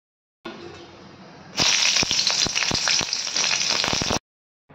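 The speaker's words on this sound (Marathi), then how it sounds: "त्यामध्ये मी मिरच्या तळून घेणार आहे" Green chilies hit hot peanut oil in a kadhai, a quiet background giving way to a loud, close burst of spitting sizzle with rapid crackles that runs for about three seconds and then stops abruptly.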